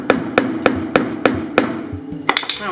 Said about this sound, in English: but I'm also going to take a hammer